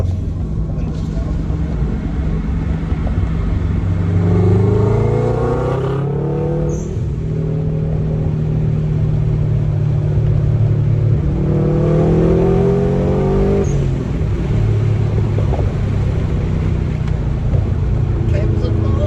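Subaru hatchback with a boxer engine and a Cobra exhaust accelerating through the gears, a steady rumbling drone that rises in pitch in sweeps with a gear change between, heard from inside the car with the windows down.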